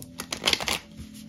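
Tarot cards are shuffled by hand during a psychic reading, a close, brisk burst of riffling and flicking papery slaps lasting about a second, with no talk over it.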